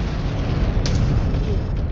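Weapon fire and explosions from a battle in MechWarrior 5 Clans, a dense, loud rumbling wash of booms with a sharper burst partway through.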